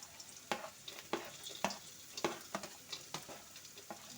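Beans and carrots fry in a pan with a faint, steady sizzle, broken by a regular series of quick scraping stirs.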